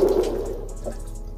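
Water hisses and sprays steadily from a broken pressure vacuum breaker, a thin continuous rush that eases slightly, with faint background chirps.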